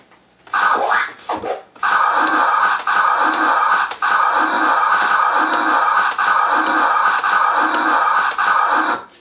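A turntable scratch with the record pushed forward and pulled back at constant speed, a steady run of evenly repeated back-and-forth scratch strokes after a brief irregular start, loud and close with no voices.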